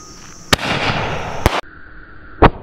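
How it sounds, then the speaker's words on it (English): A firework mortar shell fired from a launch tube with a sock stretched over its mouth: sharp loud cracks, one near the start, another about a second later, then a fainter burst, with crackling and fizzing in between. "And we're gonna light this bad boy off."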